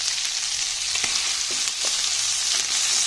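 Onions and garlic sizzle steadily in a hot pan, with soft scraping stirs cutting through the constant frying hiss, close and even throughout.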